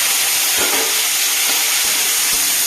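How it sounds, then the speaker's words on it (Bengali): Small cut potato pieces fry in mustard oil left over from frying prawns, a loud, dense, steady sizzling hiss with faint bubbling pops and no voices. "দুটো আলু ছোটো ছোটো করে কেটে রেখেছি, আলুগুলোকে একটু ভেজে নিচ্ছি। এটা কিন্তু সর্ষের তেলেই হবে।"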